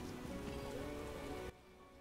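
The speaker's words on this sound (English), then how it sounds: "I detest rain." Rain pours in The Witcher, a loud, even pattering on surfaces that drops suddenly to a quieter, softer drizzle for the final half second.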